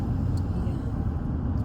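A car cruises on a long road trip, with a steady low cabin rumble of engine and road noise heard from inside, unbroken and fairly loud for under two seconds.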